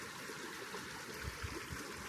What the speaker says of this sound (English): Basically the easement is also a little river, and that is where that water comes from.